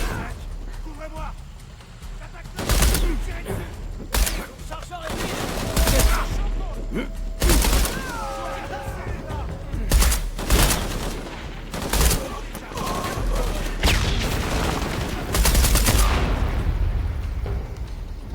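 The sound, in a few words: gunfire in the video game Shadow of the Tomb Raider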